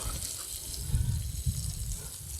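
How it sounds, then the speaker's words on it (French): Watering can sprinkling water onto garden soil in a raised vegetable bed, a soft steady patter held close throughout with a couple of low thumps. "Bien, je vais pouvoir arroser abondamment."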